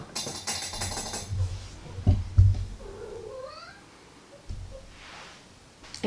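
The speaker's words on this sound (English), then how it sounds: "my cat that's rubbing on the tripod and shaking right now" Low thumps and rustling bumps from a cat rubbing against a camera tripod close by, with a brief meow-like cry in the middle.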